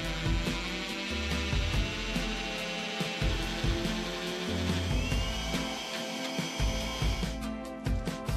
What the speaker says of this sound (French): nous reportons les trous de fixation pré-fraisés du profil afin de pouvoir forer les trous nécessaires pour visser le profil de notre paroi avec des chevilles